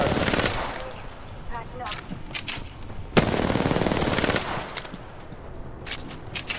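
Automatic gunfire from the Apex Legends video game comes in several rapid bursts and single sharp shots of varying loudness, with faint talk in the background.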